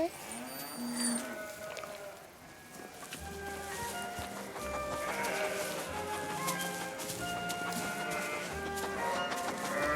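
Sheep and lambs bleating in a pen, with repeated overlapping calls rising and falling against a busy, steady farmyard background and lowing cattle-like tones mixed in.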